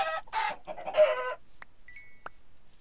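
An attacking bird enemy in the video game Terraria lets out three quick, harsh, clucking squawks, then a pause, followed by short thin synthetic tones and a couple of sharp hit clicks.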